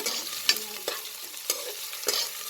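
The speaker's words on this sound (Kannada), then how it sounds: "ಎಲ್ಲನೂ ಈಗ ಸ್ವಲ್ಪ ಚೆನ್ನಾಗಿ ಫ್ರೈ ಮಾಡ್ಕೊಳ್ಳೋಣ. ಓಕೆ, ಇದು ಸ್ವಲ್ಪ ಚೆನ್ನಾಗಿ ಫ್ರೈ ಆಗಲಿ" Onions and green chillies are fried in a pan, with a spoon stirring them in four distinct scraping strokes at roughly even intervals over a quiet, steady sizzle close by.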